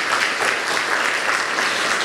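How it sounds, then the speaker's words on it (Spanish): A church congregation applauding, dense steady clapping from many hands filling the room throughout, fairly loud and with no talking over it. "Démosle un aplauso al Espíritu Santo de Dios."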